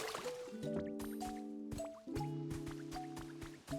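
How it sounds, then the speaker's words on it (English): Splashing, dripping water from a watering can in the video game Pokémon Pokopia, a few short liquid pours over steady game music tones. "I might as well water some of this stuff while I'm in the area"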